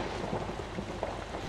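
A dense, steady roar of heavy rain and thunder from a thunderstorm in the horror video game Outlast, filling the whole moment with no voices.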